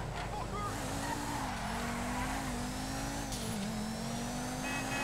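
An Albany Alpha car in GTA Online drives with a steady engine drone, its pitch sliding gently as it turns, while tires squeal faintly and a voice talks over it.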